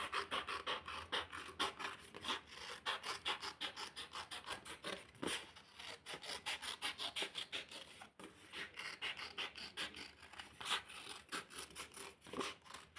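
Scissors cutting yellow paper into sandal shapes for a craft, a steady run of quick rasping snips repeating throughout, close and fairly faint with no talk.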